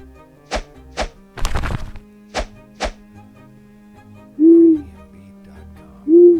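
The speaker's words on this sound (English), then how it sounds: "Who? Owl called." An owl hoots as a storytime sound effect. There are two soft, low, separate hoots, heard after several sharp wooden knocks and a brief rustle.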